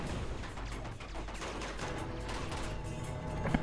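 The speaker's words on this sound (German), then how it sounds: "Drüben ist ein Maschinengewehr." Machine-gun fire in the action game Uncharted 2 at a monastery, a dense steady stream of shots with mechanical clatter, moderately loud and continuous.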